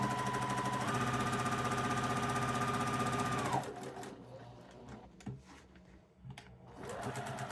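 A sewing machine runs steadily and close while stitching quilt pieces, a dense rapid mechanical chatter that stops abruptly partway through, followed by quieter handling clicks and rustles.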